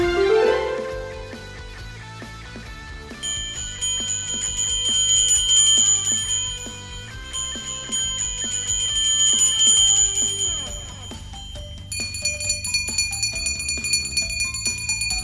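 Bells ringing in a steady sequence of bright, resonant chimes, loud and clear, with overlapping tones sustaining between strikes.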